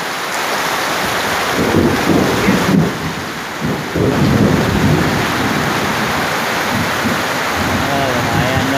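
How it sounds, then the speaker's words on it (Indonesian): Heavy rain pours steadily with loud rolling thunder and gusty wind buffeting the microphone, a close, dense roar throughout, recorded outdoors while fishing for catfish. "Hujan soalnya."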